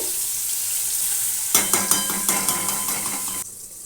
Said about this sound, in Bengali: কুমড়োটা চাপা দিয়ে দিলাম ভাজা হোক